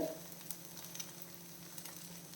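Oats dosa batter frying on a hot pan gives a steady, low sizzle that runs throughout, with a few faint clicks and scrapes over it.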